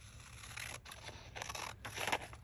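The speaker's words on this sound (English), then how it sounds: "I'm gonna have to cut this" Scissors cut through material for a hardcover hinged journal binding, several quiet crisp snips and scraping slides in quick succession, close up with no voices.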